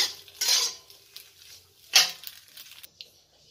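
A spoon stirs boiled macaroni in a metal pot, making two distinct scraping clatters against the pot, with softer knocks between them and near-quiet gaps.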